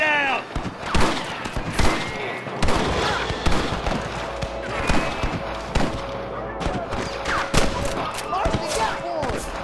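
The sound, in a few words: gunfire in Red Dead Redemption video game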